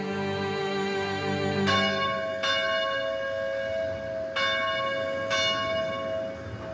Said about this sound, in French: les cloches de l'église de la Steccata annoncent la venue d'un hôte de marque.